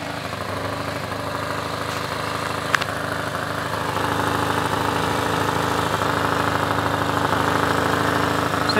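Ford Escort Hobby with a 1.0 CHT engine and Weber 460 carburetor idling: a steady, even mechanical chug with a faint rhythmic knock, close and continuous, with a single small clink partway through.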